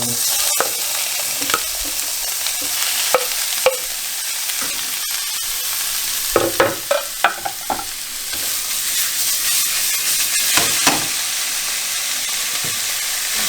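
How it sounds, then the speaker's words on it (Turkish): Beef sizzling loudly in a dry pan with no oil, a constant hissing fry punctuated by occasional clacks and scrapes of stirring, close up and with no talking. "yağ atmayacağım şimdi. Eti direkt atacağım."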